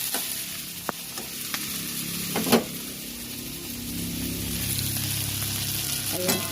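Fermented rice (buro) cooks in a pan with garlic, onion and chili, giving a steady close sizzle and frying hiss with a few soft stirring knocks, no voices.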